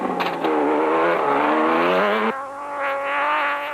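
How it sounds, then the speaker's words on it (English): Nissan Hardbody V6 racing in the Sun City 400, a loud, close engine roar under hard acceleration that climbs in pitch, then drops with a gear change and keeps pulling. "The glorious sound of the V6 engine Nissan hardbody, charging hard and in full song."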